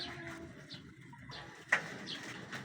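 Newly bought breeder pigeons kept in an aquarium coo softly, a few faint low coos close by with a small click in the middle.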